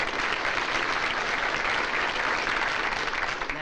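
A comedy show audience breaks into applause, a dense, steady wash of clapping that fills the whole moment at an even volume with no voices over it.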